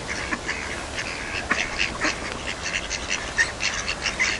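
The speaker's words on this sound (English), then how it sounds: "Duckies!" Ducks quack repeatedly outdoors, a loose scatter of nasal calls from several birds at moderate distance, with no talking.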